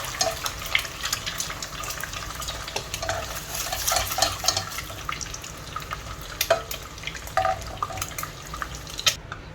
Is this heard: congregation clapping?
no